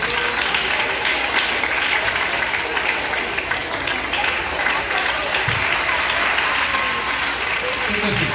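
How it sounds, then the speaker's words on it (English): A seated audience gives a long, loud round of applause for those standing at a motivational talk, dense continuous clapping filling the whole stretch with faint crowd noise. "give a big round of applause for the people those who are standing."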